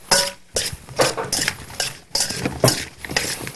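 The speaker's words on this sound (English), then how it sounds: "And now you just stir it up." A spoon stirs in a dish with bursts of metallic clinking and scraping, irregular and close, in a home kitchen.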